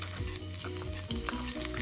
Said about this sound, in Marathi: आता ही फोडणी आपण दही आणि दुधी भोपळ्यामध्ये मिक्स करून घेऊया